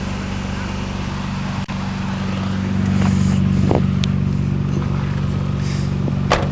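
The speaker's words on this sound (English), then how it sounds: "This exhaust is a very loud sounding exhaust" A 1997 Nissan Skyline R33 GT-R with a loud aftermarket exhaust drones steadily at idle, a constant low rumble filling the clip, swelling slightly partway through, with a few faint clicks.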